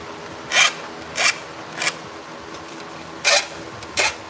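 A metal hand file is worked across the edge of a battery tray for a 1968 Pontiac LeMans, giving five short, sharp rasping strokes at uneven intervals, close and distinct against quiet background, with no talking.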